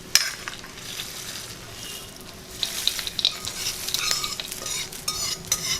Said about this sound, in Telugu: తాలింపు కూడా వేసేస్తున్నాను.